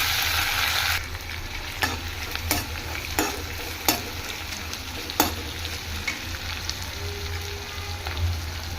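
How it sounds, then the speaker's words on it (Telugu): Onion, green chili and curry leaves frying in hot oil while being stirred for wheat rava upma, a steady close sizzle broken by sharp spoon scrapes and taps against the pan, with no talking. "కరివేపాకు వేసుకున్నాం కరెక్ట్గా వేసేసుకోవచ్చు వేస్తూ కలుపుతూ ఉండాలి"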